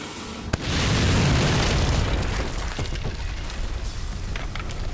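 A sudden loud explosion booms close by after a moment of quiet, followed by a long rumbling roar of debris and fire that slowly fades, in a Russian adventure drama series.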